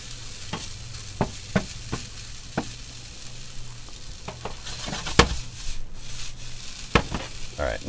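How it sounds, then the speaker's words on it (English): Vegetables coated in butter and seasoning sizzle in a pan while a utensil stirs them, sharp scraping knocks arriving at an irregular pace over the continuous frying hiss. "You just want to stir it around, get everything nice and coated with the butter, get the seasoning mixed in there a little bit."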